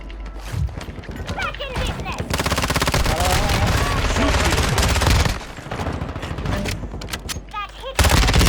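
Dense automatic gunfire from the shooter game Warzone 2.0, rapid sustained bursts with brief pauses, loud and close, while players talk excitedly over it.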